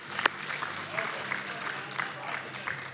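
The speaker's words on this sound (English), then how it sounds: "Let's give them a round of applause." Crowd applause for the tech team at the Games Done Quick speedrunning charity event, moderate steady clapping throughout, with a voice heard over it.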